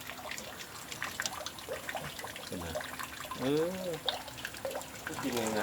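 Water trickling and flowing in a cement pond used for raising snails, a light continuous dribble heard close, partly under someone talking.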